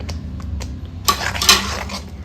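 A spoon scrapes and clinks against a pan while spice powders (turmeric, Kashmiri chilli, coriander) are stirred into an egg curry masala, with a few sharp metallic knocks over a low background hum.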